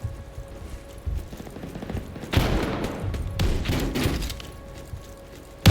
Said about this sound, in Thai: สุ่มยิงเข้าไปครับผม ลูกปืนเราแรงทะลุแล้ว